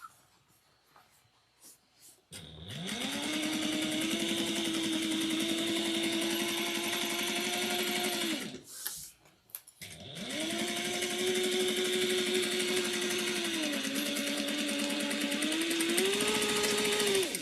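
A sewing machine back-stitches a seam on a triangular shoulder bag in two long, steady motor runs, each a sustained whirring hum with a brief pause and a few clicks between them, close and fairly quiet.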